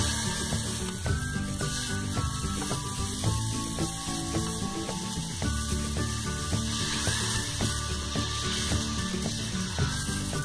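Ragi dosa batter sizzles on a hot pan, giving a loud, continuous hiss with rapid fine crackling throughout and no voices.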